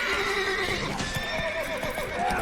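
Geralt's horse Roach gallops and neighs in The Witcher 3, a whinny rising over steady clip-clop hoofbeats and game ambience, loud and close throughout.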